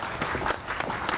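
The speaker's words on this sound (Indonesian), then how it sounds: "Tepuk tangan untuk teman-teman." Audience at a televised talk show claps for a group of university political science students, a short, even burst of moderately loud applause with scattered sharper claps.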